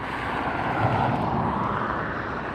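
A Condor jet airliner at LAX airport prepares for takeoff, its engines giving a steady, loud, broadband roar that swells slightly midway, with no talk over it.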